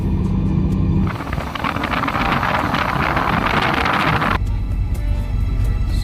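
Wind rushes over an old salvaged ship off Burias Island, a loud rough buffeting roar that swells for a few seconds over a low engine-like rumble, then drops back to calmer background noise.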